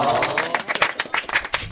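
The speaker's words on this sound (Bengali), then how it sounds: "তাহলে একটা হাততালি হোক।" Hands clap in a quick, uneven run of sharp claps, a short burst of applause from a small group in a classroom, heard alone and fairly close.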